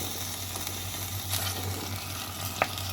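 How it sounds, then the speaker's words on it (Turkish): Meat browning in butter in a pan, a steady soft sizzle and crackle at moderate level with a couple of brief utensil clinks, no talk. "Biraz yağ koyup tekrar kavuruyorum. Tereyağı koydum."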